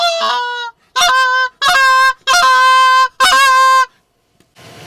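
Several loud, close geese honk in repeated bursts, four or five harsh multi-note calls separated by brief pauses during a late-season goose hunt in South Dakota.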